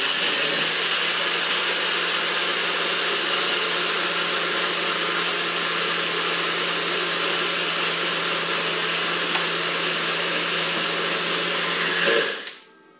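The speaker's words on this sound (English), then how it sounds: "Put it on the blender." A Nutribullet blender motor whirs at a steady high pitch for about twelve seconds, then quickly winds down and stops.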